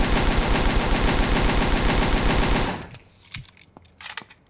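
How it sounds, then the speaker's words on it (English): The MP9 Evil, a fully automatic SMG in the game Aneurism IV, fires a loud, rapid continuous burst for nearly three seconds, then stops, followed by a few scattered clicks and softer echoing impacts. "Here is the MP9 Evil. Fully automatic SMG."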